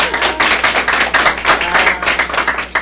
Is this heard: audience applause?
yes